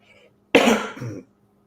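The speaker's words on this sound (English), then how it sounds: "I've got a bit of a cough." A single harsh cough, close and fairly loud, followed by a shorter rough throat-clearing burst, with quiet surroundings before and after.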